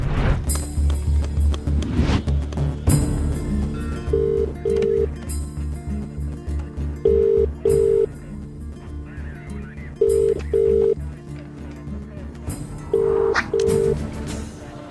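Telephone dialing tones from a Telugu comedy film scene: short paired beeps repeat in several clusters over steady background music, loud and close.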